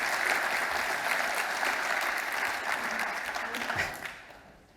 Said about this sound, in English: Round of applause for Rishu.